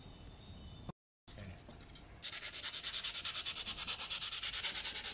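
Hand sanding on a foam logo, beginning with faint scraping, a short silence, then a rhythmic back-and-forth rubbing that grows steady and fairly loud in regular strokes.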